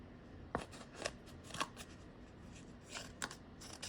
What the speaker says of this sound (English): I'm just going to take my scissors and I'm just going to cut this whole corner off